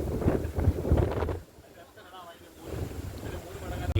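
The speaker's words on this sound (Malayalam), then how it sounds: "സൂപ്പർ കാറ്റ്, അടിപൊളി കാറ്റാണ് അടിക്കുന്നത്" Strong wind gusting across the open top of Muttara Maruthimala hill in Kollam, buffeting the microphone in loud rumbling bursts that ease briefly in the middle before building again.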